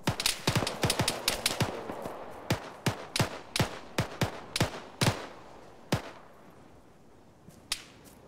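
Rapid sharp gunshots crack out during squad training, first in dense overlapping bursts and then thinning to spaced single shots, moderately distant, with no talking.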